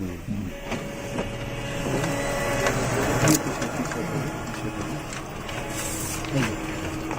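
A Toshiba photocopier runs through a single copy, a continuous mechanical whir and rumble with rhythmic feed clicks and a couple of sharper clacks, fairly close and steady.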